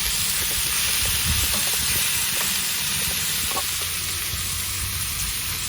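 Onions softening in a pan give a steady, close sizzling hiss with faint stirring clicks, continuous throughout with no talking.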